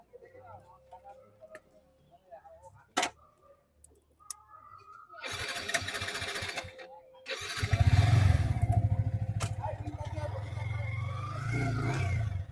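A 2024 Yamaha R15 V3S sports motorcycle sits quietly with a few sharp clicks, then its engine roars to life about halfway through and runs loudly and steadily close by to the end.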